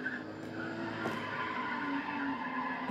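A race car drifting in Need for Speed ProStreet, a steady engine drone with sustained tire squeal throughout, loud and close with no pauses.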